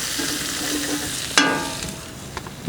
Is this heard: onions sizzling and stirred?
yes